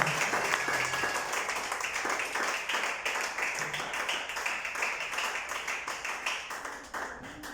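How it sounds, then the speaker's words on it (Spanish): Steady applause from a church congregation during a Sunday morning service, dense clapping at a moderate distance that carries on without pause and thins slightly near the end. "Dale un aplauso a Cristo. Pero dáselo fuerte en esta mañana."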